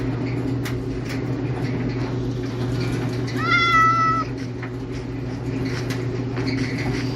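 A cat meows in the Minecraft video game, a short rising-falling call standing out over a steady low background hum and ambient rumble.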